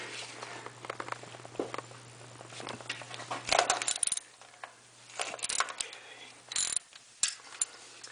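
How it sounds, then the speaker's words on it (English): A hand ratchet with a 13 mm socket works the bolts on the back of an air conditioner compressor on a 1993 Dodge Dakota 3.9L engine, giving rapid clicking pawl bursts and metallic clinks in stops and starts, close and fairly loud. "using a 13 millimeter socket on these bolts right here on the back of the air compressor, or the air conditioner compressor"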